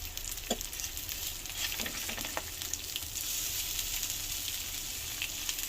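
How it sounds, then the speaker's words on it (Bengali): Eggs fry in a pan with only a little oil, giving a steady close sizzle with occasional scraping stirs and no voices. "কম তেলে ডিম ভাজলে ডিম ভাজা সবসময় এরকমই হয়"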